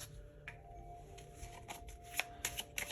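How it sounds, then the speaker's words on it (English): Tarot cards being shuffled and pulled by hand, a steady papery riffle with sharper flicks and slaps toward the end, close and alone. "I'm gonna pull some more cards to see"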